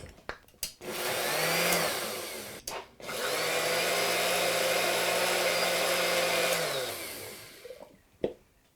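Blender pulsing sorrel soup with half and half, two long whirring bursts separated by a short pause, with a few clicks and knocks at the start and end.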